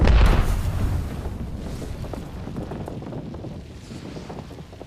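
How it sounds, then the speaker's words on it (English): An airstrike in Apex Legends opens with a heavy booming blast that decays into a rumbling, wind-like wash, with no talk. "Airstrike."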